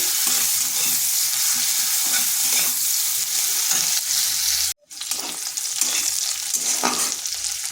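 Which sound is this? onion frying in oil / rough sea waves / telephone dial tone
onion frying in oil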